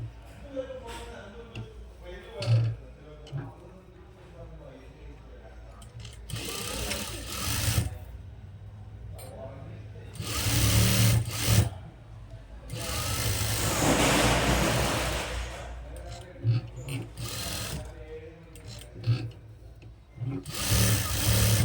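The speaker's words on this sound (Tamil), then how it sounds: "இந்த பாக்கெட்டு ஷேப்புக்கு தைச்சிட்டு வந்துடணும்." A sewing machine stitches a pocket onto chudi pants in bursts of rapid mechanical whirring, loud and close, with pauses between runs while someone talks throughout.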